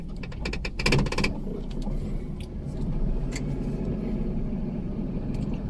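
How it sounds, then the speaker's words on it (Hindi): A manual car in a driving lesson moves off from rest in first gear with the clutch released from its biting point: a steady low engine rumble and road noise, with a brief louder mechanical clatter near the start, no voices. "फर्स्ट गियर लगा के मैंने वैसे ही गाड़ी उठाई जैसे बैक में ली थी"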